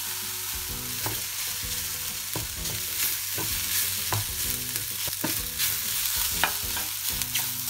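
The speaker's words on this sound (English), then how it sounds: "I'm going to put in the rice. I'm going to try to kind of spread out the rice." Rice stir-frying with pepper and mushrooms in a pan for Japanese omurice: steady sizzling and frying under repeated scraping strokes of a utensil, close and continuous, with no talking.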